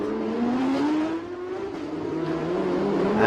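Race car at full throttle in a TSS 2019 circuit race, a loud sustained engine note climbing steadily in pitch as it accelerates, with no break in the drone for over three seconds.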